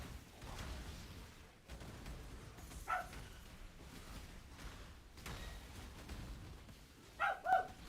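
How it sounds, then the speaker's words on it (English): Maple, a dog, barks in short sharp yips, a single bark near the middle and a quick pair near the end, rising over a quiet, muffled background. "Don't need to bark at the other dogs barking."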